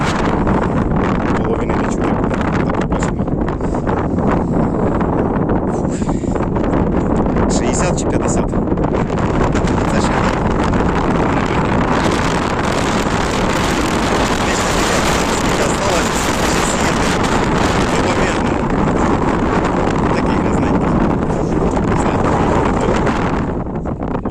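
Loud, steady wind buffeting the microphone outdoors, a continuous roaring rumble throughout with occasional gusty swells.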